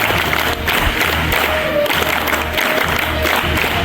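Audience applause at a college sports day event welcoming the principal, dense continuous clapping mixed with crowd cheering, loud and close throughout.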